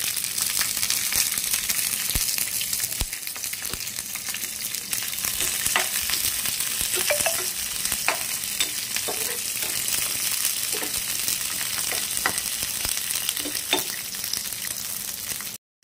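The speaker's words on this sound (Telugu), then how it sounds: "మినపప్పుని లైట్గా ఫ్రై చేసుకుందాం।" Urad dal frying lightly in oil in a pan for an idli and dosa chutney, a loud continuous crackling sizzle with intermittent scraping stirs across the whole stretch, no speech.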